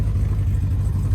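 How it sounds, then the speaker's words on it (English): Exhaust of a 2016 Chevrolet Corvette Z06 rated at 815 wheel horsepower, a loud, steady low rumble held briefly at close range with no talking. "I just wanted y'all to hear that exhaust really quickly"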